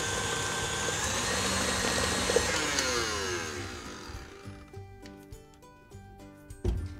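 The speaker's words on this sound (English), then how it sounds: "I'm going to turn my mixer back on and whisk this until I have a nice and uniform mixture" An electric mixer whisks raspberry cheesecake mixture at a loud, steady whir, then winds down around midway. It is followed by light clinks and taps from the bowl.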